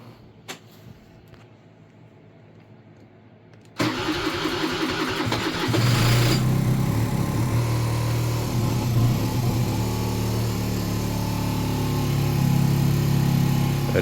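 An Aprilia SR50R Piaggio Ditech scooter with a TPS sensor problem on a cold, snowy day, starting abruptly after a quiet stretch, then its small engine settles into a loud, steady running buzz that continues to the end.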